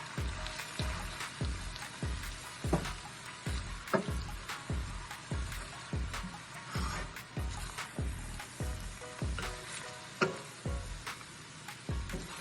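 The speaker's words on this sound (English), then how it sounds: "I'm using my salad server to mix this." Boiled Hakka noodles being tossed with salad servers, making a steady series of soft clicking and slapping taps. The rhythm is even, close and fairly quiet, with no talking.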